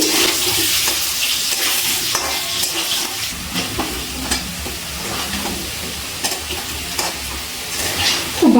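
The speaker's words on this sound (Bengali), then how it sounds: "গ্যাসের ফ্লেমটা হাইতে রেখে আলুগুলো ভেজে নিচ্ছি।" Potatoes deep frying in hot oil over a high gas flame, a steady close sizzle with occasional scrapes and stirring clatter, no talking.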